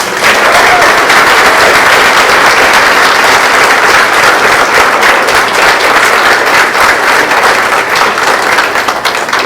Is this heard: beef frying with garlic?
no